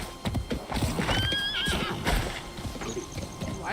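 Horse whinnies with a rising, wavering neigh amid steady clip-clop of hooves in the video game Palia, loud and close, with scattered thumps and game sounds around it.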